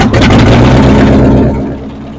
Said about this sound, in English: this is what the car sounds like running now